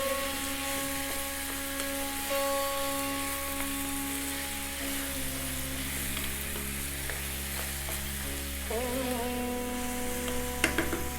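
Lamb curry sizzles steadily in a frying pan, a continuous near frying hiss with occasional scrapes of stirring and a few sharper clinks near the end, over a faint background hum.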